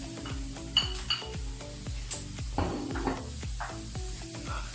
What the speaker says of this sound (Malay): You goreng daging ni dengan bawang ni sampai daging ni tak ada warna pink lagi ya.